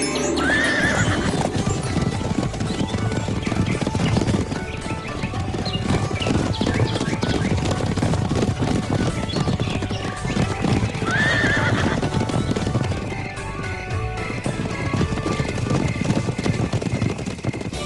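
Seven horses trot with rapid, continuous clip-clop hoofbeats, loud and close, broken by two distinct whinnying neighs partway through, under a thick layer of motion noise.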